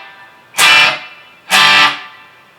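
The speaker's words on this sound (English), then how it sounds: "Try a little more tail on the reverb." A distorted electric guitar through a pedalboard rings out in two loud, sustained strums, each trailed by a longer reverb tail that lingers between hits.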